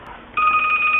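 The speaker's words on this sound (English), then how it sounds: "There's my phone call." A telephone rings for an incoming call: after a short quiet stretch, a loud, steady electronic ring starts and holds close by, alone, with no talk.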